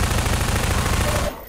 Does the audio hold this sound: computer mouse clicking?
no